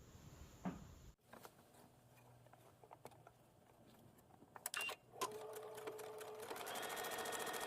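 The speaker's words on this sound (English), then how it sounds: "I'm going to take it to the machine and I'm going to stitch along the seam line" A sewing machine runs in short bursts of rapid stitching along a seam, with clicks and handling noises between runs, close and fairly quiet before building to a longer continuous whir.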